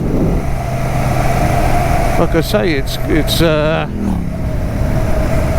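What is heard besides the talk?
Royal Enfield Shotgun 650 motorcycle engine while riding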